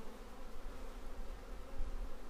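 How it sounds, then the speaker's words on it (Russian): Central Russian honey bees leaving freshly opened hive splits on orientation flights make a steady, dense buzzing drone at close range, with no voices over it. "Вот эти среднерусские отводки уже я открыл, начинают облетаться."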